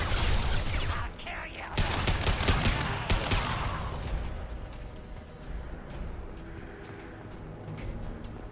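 Rapid bursts of gunfire from a shooting sequence in the video game Mass Effect 2, loud and dense for the first few seconds, then thinning into quieter scattered shots and game noise.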